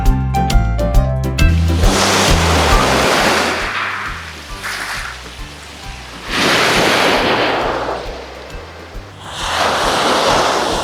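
Sea waves breaking on the Cornish shore, loud and close, surging in several rolling crashes with hissing wash between them and wind buffeting the microphone.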